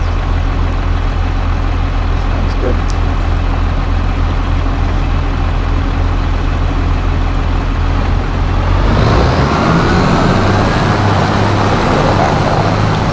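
A tractor seeds a field in the Farming Simulator 25 video game, its engine drone steady and loud throughout and growing rougher partway through, with a person speaking briefly over it.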